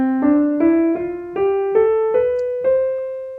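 A keyboard plays a rising Ionian mode scale on the white keys, seven single notes stepping steadily upward at a moderate even pace, each clear and sustained, up close with no voices.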